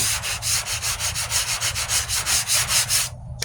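Sandpaper of 120 grit rubs back and forth over the passenger-side wheel arch repair of a 1998 Ford Ranger, a steady series of about fifteen close, even rasping strokes that stops abruptly near the end.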